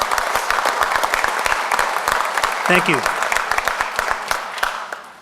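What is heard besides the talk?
theater audience applause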